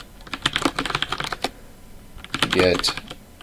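Rapid bursts of keystrokes on a computer keyboard while entering git commands, two clusters of clicks separated by a short pause, close and clear with a brief spoken word between them.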